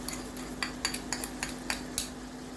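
A spoon mixes soy sauce and brown sugar for lamb mechado, tapping and clinking lightly against a bowl in a quick, irregular run of about eight small knocks over a steady low hum.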